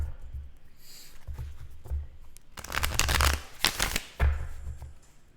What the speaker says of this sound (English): Oh yeah, you can still kind of see me shuffle, right?